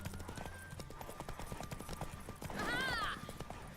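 Hooves clip-clopping on a horse in The Witcher 3, a short steady patter under game sound, ending with a brief whinny-like cry near the end.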